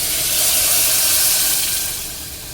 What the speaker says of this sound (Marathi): आता मी ॲड करणार आहे पाणी.